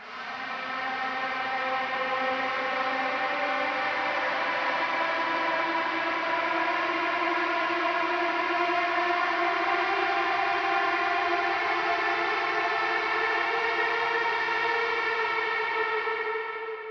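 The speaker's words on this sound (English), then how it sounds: "dipping 1K to make sure that this ambient tone sits behind the heavy guitars rather than on top of them" A sustained ambient electric guitar tone, EQ-shaped with a scooped midrange so it sits behind heavy guitars, swells in and rings steadily for about seventeen seconds as a dense, shimmering wash with no talking.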